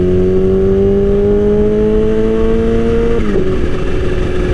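Loud engine drone of a Kawasaki Ninja H2 sport motorcycle rising steadily in pitch as it accelerates, then a quick drop as the gear shifts, close and continuous.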